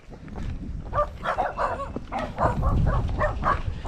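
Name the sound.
dogs barking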